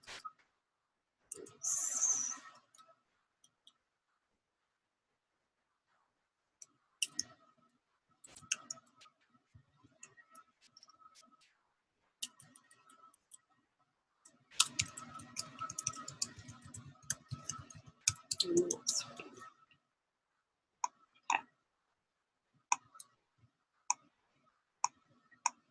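Scattered clicks of typing on a computer keyboard, some single keystrokes and a denser burst of rapid taps in the middle, fairly faint against silence.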